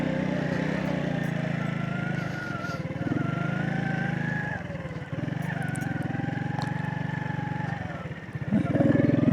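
A motorcycle rolls slowly in low gear along a narrow, slippery sandy road on the black coast of Balochistan, its engine a steady close drone that dips briefly and picks up again near the end.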